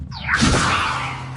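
A Levioso levitation spell cast in Hogwarts Legacy, a rising magical whoosh that swells into a sustained shimmering rush lasting over a second, loud and close.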